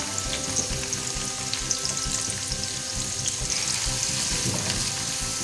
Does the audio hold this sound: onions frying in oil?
yes